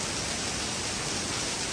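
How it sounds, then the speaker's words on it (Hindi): Heavy rain falls hard and continuously near Atal Tunnel, a dense, loud, even hiss with no break or voices. "बहुत तेज़ बारिश हो रही है"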